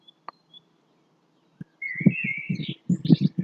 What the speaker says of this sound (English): Maybe you hear birds like I do,